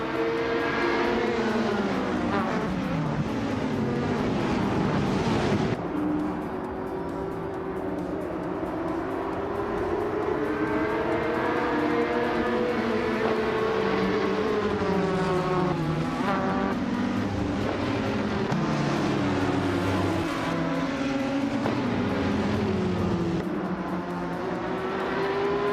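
Race cars roar continuously at Suzuka in a racing video game, engines droning loud and close with shifting pitch as the pack starts from the grid, including a 2016 ATA03 Nissan on pole.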